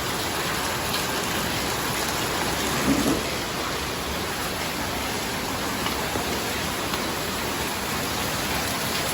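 Heavy, unbroken rain pours steadily in cold weather during flooding, a dense hissing wash with no pause from start to finish and no voices.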